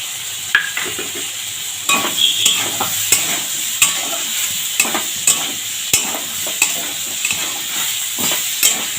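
A spatula stirs frying vegetables with raw mango in a pan, with repeated sharp scraping strokes at an uneven rhythm over a constant soft sizzle, close and clear with no talk.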